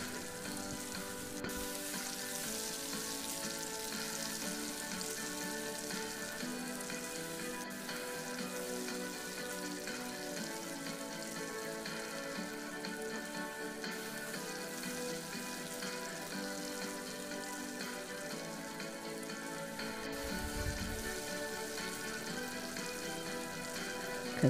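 Large pieces of cabbage fry in a pan, a steady soft sizzle and crackle running throughout, fairly quiet and close, with a brief low stirring thump near the end.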